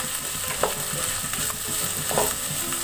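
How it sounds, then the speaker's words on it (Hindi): Cauliflower florets being stirred in a pan with turmeric and red chili powder for gobi fry, a steady background sizzle broken by a few scraping strokes of the spoon, with no talking. "इस दोनों को डाल के हम इसको मिक्स कर देंगे अच्छे से"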